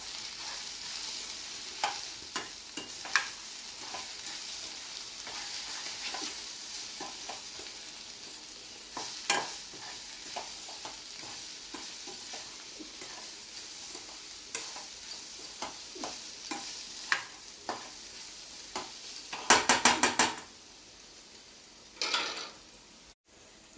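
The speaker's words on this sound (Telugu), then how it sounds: "ఇప్పుడు పసుపు, కారం, ధనియాల జీలకర్ర పౌడర్, సాల్ట్ వేస్తున్నానండి. కలుపుకుంటున్నానండి." Spices (turmeric, chili powder, coriander-cumin powder and salt) being stirred in a frying pan, with soft scraping strokes and faint sizzle running steadily, plus a brief burst of sharper clatter near the end; no talking.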